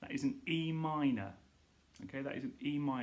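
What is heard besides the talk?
No everyday noises stand out.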